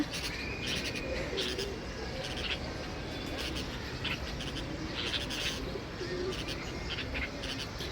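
Two bulbuls on a rooftop garden trade intermittent chirping calls, fairly soft against a constant outdoor background hiss.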